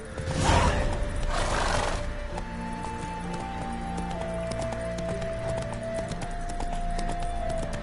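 A horse gallops in The Witcher 3, a rhythmic run of clip-clop hoofbeats with a brief loud whoosh at the start, under steady game music tones.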